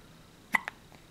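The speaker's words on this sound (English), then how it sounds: "Oh, hiccups." A baby gives two quick, soft hiccups in a row, close and fairly faint, with a quiet third catch just after in an otherwise calm room.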